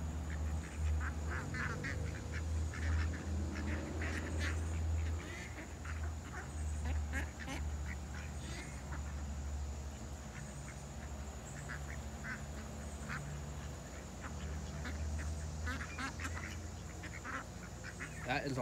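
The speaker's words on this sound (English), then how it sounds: "That is a lot of ducks." Many ducks quack in scattered bursts nearby over steady low background noise, with occasional voices mixed in.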